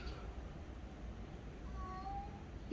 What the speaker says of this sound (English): the cat here is looking at me and says, feed me, feed me.